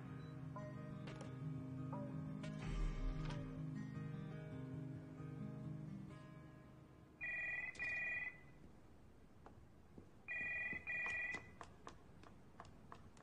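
An office telephone rings in two clear electronic trill bursts after a stretch of background chatter and music, sounding loud and near.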